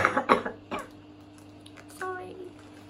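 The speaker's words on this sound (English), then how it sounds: "I need to cough in a second" A woman with a cold coughs several times in quick, harsh bursts at close range, followed by a quieter throat sound and a brief voiced noise.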